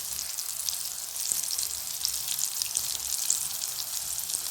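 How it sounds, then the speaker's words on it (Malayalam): Tapioca snack pieces frying in hot oil give a steady, dense sizzle with fine crackling throughout, close and fairly loud, with no voices. "അപ്പോൾ നമുക്കിതൊന്ന് ഫ്രൈ ചെയ്തെടുക്കാം."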